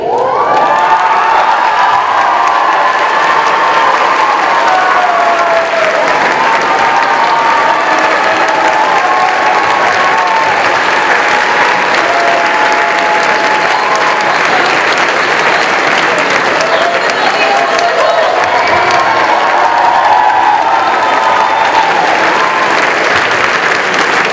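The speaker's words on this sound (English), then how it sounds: "So can we have one more round of applause for them?" A large school audience at a fashion show bursts into sustained, loud applause mixed with cheers and children's shouts, a dense steady roar of clapping holding for the whole stretch with a few whoops and voices mixed in.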